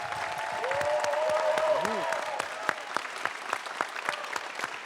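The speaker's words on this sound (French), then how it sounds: "On peut les applaudir." Audience applause at a live French public debate on freedom fighters: a sustained, dense clapping from a crowd that stays steady for about five seconds, with a faint tonal voice-like sound in the first two seconds.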